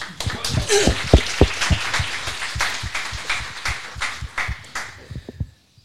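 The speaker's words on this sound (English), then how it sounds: "Si vous pouvez vous applaudir." Audience of about a hundred people at a Paris Notion meetup applauding themselves, a dense patter of individual claps with some sharp nearby hand strikes, steady for several seconds before cutting off abruptly.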